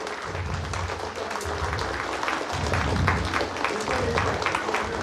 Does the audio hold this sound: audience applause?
yes